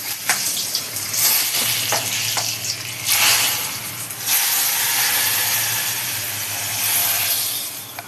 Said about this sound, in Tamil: தாளித்து ஊற்ற போகிறேன்.